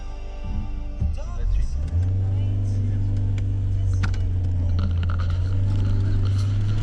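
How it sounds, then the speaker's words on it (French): A car drives past on a narrow Scottish mountain road near a loch, its engine rising into a close, loud rumbling pass and then holding a steady low drone, with people talking over it. "Mis à part la voiture qui est passée devant"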